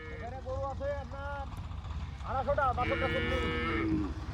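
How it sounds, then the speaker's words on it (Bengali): Cows and buffaloes in a herd of about 250, calves included, on the Char Khamardiar river island moo loudly nearby, several long, drawn-out calls overlapping, with a voice talking underneath. "এই যে প্রচুর গরু মহিষ, এই যে দেখতে পাচ্ছ।"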